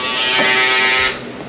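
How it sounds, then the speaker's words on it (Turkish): A small electric hole-drilling and carving tool is tested at an estate sale, giving a loud, steady high-pitched whine for about a second before it spins down and fades. "şöyle bir makine, yani delik açıp etrafını oymak için bir makine"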